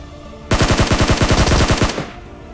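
Gunfire in PUBG Mobile: a loud, close automatic burst of about a dozen rapid evenly spaced shots lasting a second and a half, then stopping abruptly, with no talking.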